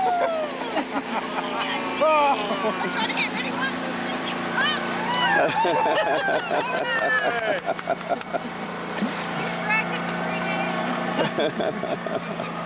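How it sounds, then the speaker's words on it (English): A loud, rattling boat motor drones steadily throughout on the Colorado River, with voices talking over the engine noise. "That's the noisiest motor we've heard."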